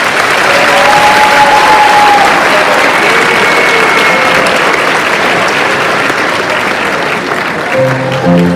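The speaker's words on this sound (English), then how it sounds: "please give a warm round of applause for our second grade patriotic show" Loud, sustained audience applause for a second grade patriotic show, a dense wash of clapping from a crowd that holds steady and then tapers slightly at the end.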